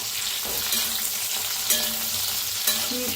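Chillies sizzling and frying as they are stirred and roasted in a pan on the stove, a steady hiss broken by a few spatula scrapes, with no talking.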